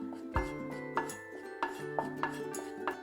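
Flour is stirred into melted butter in a pan, the utensil knocking against the metal in a loose, irregular rhythm of sharp clinks over soft scraping, close and fairly quiet.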